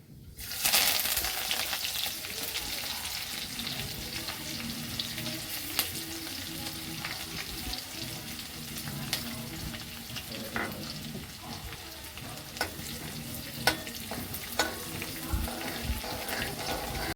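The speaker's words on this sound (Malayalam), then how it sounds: "കടുക് പൊട്ടി വന്നിട്ടുണ്ട്" Hot oil sizzles steadily with scattered sharp pops and crackles of spluttering mustard seeds throughout, close up, with no talking.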